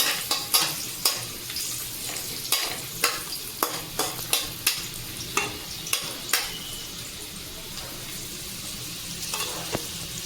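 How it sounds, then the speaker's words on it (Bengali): Carrots and other vegetables frying in white oil in a large wok, with a steady sizzle broken by frequent sharp scrapes and clacks of stirring, close and clear, with no talking. "তো আমি সবজিগুলো একটু ভেজে নেব প্রথমে নেব আমি গাজর এগুলো আমি ভেজে নিলাম"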